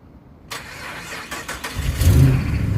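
A Mopar Hemi with a failing starter cranks after a click, the starter grinding and turning the engine over briefly before it catches into a rough, rising engine note, close by and loud.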